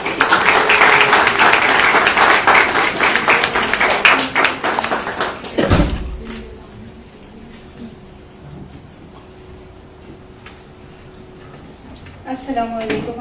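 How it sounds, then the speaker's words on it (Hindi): Dense, loud audience applause fills the first six seconds at a gathering, then cuts off abruptly into a quiet room with a faint hum before speech resumes. "भरपूर तालियां एक दफ़ा फिर अनीला रज़ाक"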